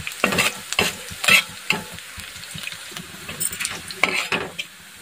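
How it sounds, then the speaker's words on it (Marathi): Green chilies fry in hot oil in a pan for a methi bhaji, with a spatula scraping and stirring in quick, uneven strokes over a soft, steady sizzle, close and fairly loud. "तर मिरची छान तळली गेलेली आहे, मस्त भाजली गेलेली आहे."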